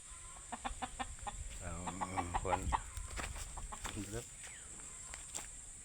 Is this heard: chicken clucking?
yes